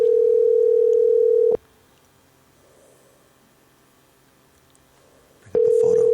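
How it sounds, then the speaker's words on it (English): An outgoing telephone call rings out as a steady, pure electronic tone lasting about a second and a half, then a four-second silence before the tone starts again, with no talking. "we'll just give her a ring and see if she answers."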